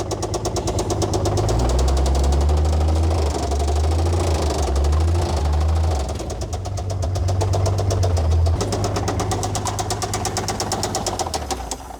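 A truck engine with rod knock running under its own power off a trailer, a loud, close, continuous rough idle with rapid rhythmic knocking that surges and dips in pitch.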